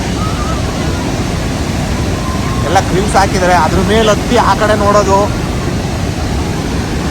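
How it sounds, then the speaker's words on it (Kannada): Water gushing through the gates of Gorur Dam in Karnataka makes a steady, broad roar that fills the whole stretch, with people talking over it partway through. "ಫುಲ್ಲು ನೀರು ಬೀಳುತ್ತೆ"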